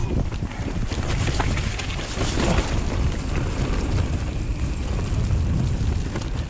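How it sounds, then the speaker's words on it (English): Strong gusty wind roars across the microphone continuously on a rainy trail at Cwmcarn, a loud, rumbling buffeting with no speech. "It's raining out"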